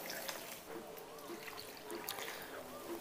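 Water pours steadily into a cooking pot of desi chicken achari with lemon pieces, a continuous trickling splash lasting a few seconds at close range.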